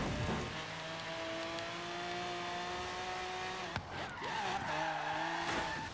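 A BMW X6 drifting in Forza Horizon 3 keeps a long tire skid screeching over a steady engine drone, then a brief break before the squeal and revving pick up again, with no talk over it.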